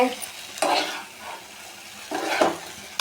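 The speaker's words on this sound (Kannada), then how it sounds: "ಬಾಳೆಹಣ್ಣು ಫ್ರೈ ಆಗಿದೆ" Banana slices frying in spice masala in a pan, heard as a steady sizzle broken by two louder bursts of stirring and scraping, close and with no voices.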